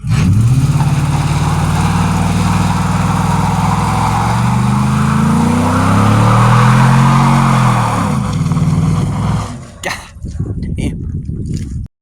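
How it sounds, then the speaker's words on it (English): A Ford Mustang 5.0, already totaled, holds a sustained burnout, its engine droning loud and steady with rising and falling revs for about eight seconds before cutting out, followed by scattered voices and outdoor noise. "One last burnout for the 5-0"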